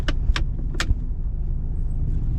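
A car driving on a busy road in Tagbilaran, Philippines, with traffic overtaking on both sides; a steady low engine and road rumble runs throughout, broken by a few brief brighter knocks or jingles near the start.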